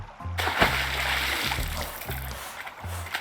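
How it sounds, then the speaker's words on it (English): Water splashing in a forest stream as someone rinses their mouth while hunched over it, a close, continuous splatter and slosh over a low steady rumble, with no speech. "As I hunch over the stream and rinse the taste buds out of my mouth"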